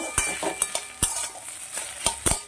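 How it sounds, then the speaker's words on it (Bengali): Radish curry with fried lentil dumplings is stirred in a pan, giving several crisp, irregular spatula clinks and scrapes against the metal over a faint sizzle, close by, without speech. "বড়ি ভাজাটা দিয়ে আমি আবার একটু নেড়ে নেব।"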